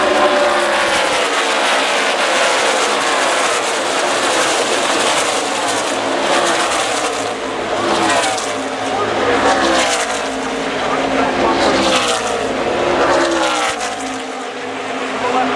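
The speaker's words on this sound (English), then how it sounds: "5 laps to go as the leaders come across the start-finish line." NASCAR Xfinity Series stock cars roar past at Pocono Raceway late in the race, a loud sustained engine drone rising and falling as the pack passes, with race commentary running over it.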